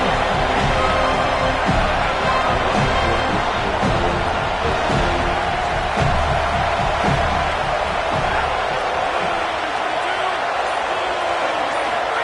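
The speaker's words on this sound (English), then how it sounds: "This crowd bringing an ear-splitting welcome to their visitors." A college football stadium crowd roars and cheers in an ear-splitting welcome, a dense, loud, continuous wall of noise with a commentator talking over it.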